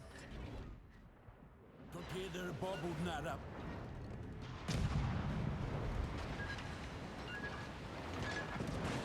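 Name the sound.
warship guns firing in video game World of Warships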